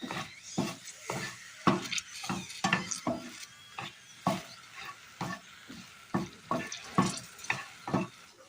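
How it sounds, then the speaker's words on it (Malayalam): Dried red chillies fry in hot coconut oil, with steady sizzling under a brisk, rhythmic run of spatula strokes scraping the pan, each stir sharp and close. "വെളിച്ചെണ്ണ ചൂടായി വരുമ്പോൾ ഇതിലേക്ക് വറ്റൽമുളക് ഇട്ടിട്ടുണ്ട് നന്നായി ഒന്ന് വഴറ്റണം"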